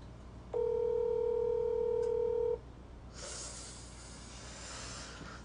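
A telephone ringback tone on an unanswered call: one steady, loud two-tone ring lasting about two seconds, followed by a low hiss and faint line noise with no voice.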